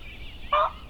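A single short gobble from a young male wild turkey strutting rings out briefly, moderately loud and somewhat distant, against a quiet outdoor spring background in Connecticut.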